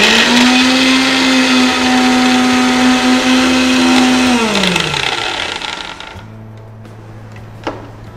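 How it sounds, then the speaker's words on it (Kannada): A mixer grinder whirs loudly and steadily, blending cucumber into a fine paste, then spins down and falls quiet, leaving a low hum and one small knock near the end. "ಈಗ ಈ ಸೌತೆಕಾಯಿನ ಮಿಕ್ಸ್ ಮಾಡ್ಕೊಬಿಡೋಣ. ಇದು ಪೇಸ್ಟ್ ಆಗಲಿ, ಫೈನ್ ಪೇಸ್ಟ್."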